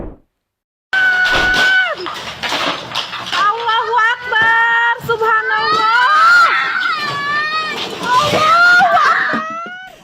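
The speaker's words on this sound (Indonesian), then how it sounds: "Dalam rekaman video amatir warga terdengar suara histeris dan tangisan anak" As a house wall in Cikupa, Tangerang, Banten is torn down, residents scream hysterically and children wail, loud, overlapping high cries and shouts filling the scene after a brief silence.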